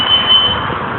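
A smoke alarm sounds inside a house as a steady high-pitched electronic tone, loud and continuous for the whole moment, with no talking.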